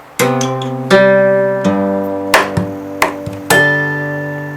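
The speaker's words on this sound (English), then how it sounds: "the bass note, which is just wrist on the top deck of the guitar" Acoustic guitar struck percussively, with a wrist thumping the top deck for a bass note among ringing chords. Several sharp hits and strums sound close and clear in an uneven rhythm, with no voice.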